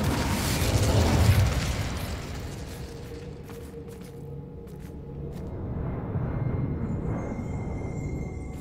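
A fire spell cast in Hogwarts Legacy bursts out as a loud, roaring whoosh that peaks early, then settles into a lower crackling rumble with faint ambient tones behind it.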